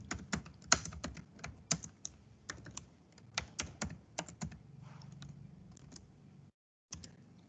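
Rapid typing on a computer keyboard, a close, crisp run of irregular key clicks and taps with a brief pause near the end and no talking.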